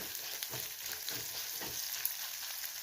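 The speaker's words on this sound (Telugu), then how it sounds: "ధనియాలు 2 చెంచాలు, 1 చెంచా జీలకర్ర వేసుకొని వేయించుకోవాలి" Coriander seeds and cumin dry-roasting in a pan for a spinach-onion spice paste, giving a soft, steady crackle with light scraping and stirring strokes at close range, with no voices.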